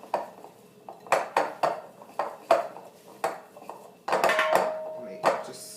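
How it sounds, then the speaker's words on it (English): Butter and brown sugar being stirred together in a mixing bowl, with a run of close, uneven scraping clinks of the utensil against the bowl and a brief steadier swirl near the end. "And just give that a good mix."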